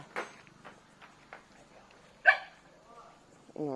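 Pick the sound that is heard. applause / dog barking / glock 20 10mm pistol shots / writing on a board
dog barking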